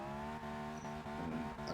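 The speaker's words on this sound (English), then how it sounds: "Just a bit of a handbrake turn" A Ferrari 599 GTO engine drones in the Forza 6 racing game during a handbrake turn, a sustained revving tone with subtle tire scrub running through the brief moment.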